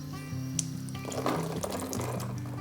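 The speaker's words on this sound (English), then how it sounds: "Gently rinse the tofu in the fresh water." Water running steadily from a tap into a sink, with soft splashing and shifting flow as tofu is gently rinsed under it, close up.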